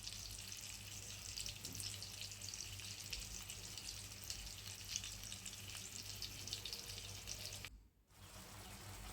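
Fish frying in oil, a steady, even sizzle and hiss that runs nearly unbroken, with one brief drop near the end before the crackle returns.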